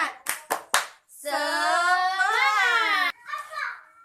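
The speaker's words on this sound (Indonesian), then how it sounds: "Tepuk semangat." Classroom of sixth-grade pupils doing a rhythmic 'tepuk semangat' clap: three sharp claps in quick succession, then a long chanted group shout, then more voices, fairly close.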